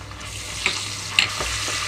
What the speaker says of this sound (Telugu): అల్లం వెల్లుల్లి పేస్ట్ని కూడా మీడియం ఫ్లేమ్లో ఉంచి వేయించుకుంటున్నాను